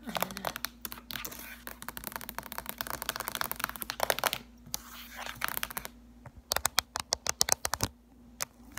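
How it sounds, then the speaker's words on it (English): Fingers type and tap on a keyboard in a quiet ASMR setting, rapid irregular clicks in bursts, close and crisp, with faint whispered-level background and short pauses between runs. "But I do really like typing."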